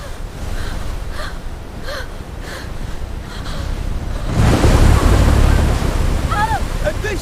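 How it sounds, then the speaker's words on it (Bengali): A storm over a river brings gusting wind and big waves rocking a boat. A steady wind roar swells into a louder crashing surge of waves about halfway through, with a few short vocal gasps scattered over it. "ঝড় ক্রমেই ভয়ঙ্কর হয়ে উঠল। নদীর বিশাল ঢেউ নৌকাটাকে দুলিয়ে দিতে লাগলো।"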